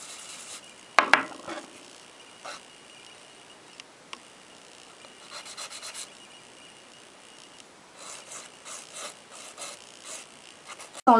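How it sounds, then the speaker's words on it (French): A nail file rasping over a gel nail, stroking the whole nail from top to bottom in quiet, intermittent bursts of close scratchy rubbing, with a couple of sharper clicks and handling knocks between strokes. "on lime pas que le devant, hein, on lime la totalité de l'ongle de haut en bas"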